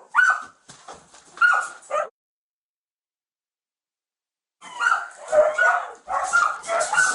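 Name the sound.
dogs barking in a home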